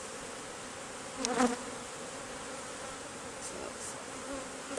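Honey bees buzz around an open hive during a beekeeping inspection, a steady insect drone with a brief louder burst as one flies close to the microphone, and a voice speaks briefly.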